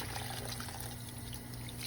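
Water running steadily over collard greens being rinsed, a continuous close splashing flow with no talk.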